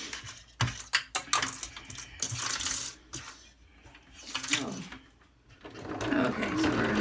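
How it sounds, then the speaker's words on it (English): A home sewing machine stitches a fabric face mask, its motor whirring in short bursts of stitching with pauses between them, fairly quiet and close by. "I'm going to start sewing at the pin and carry around."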